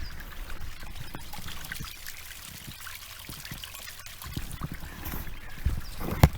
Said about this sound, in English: Nothing like a babbling brook early in the morning to start your day.